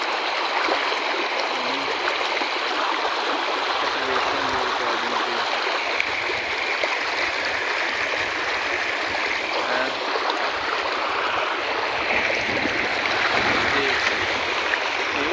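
Floodwater rushes through paddy fields after heavy rain, a broad, steady roar of flowing water that holds evenly and loud throughout with no break.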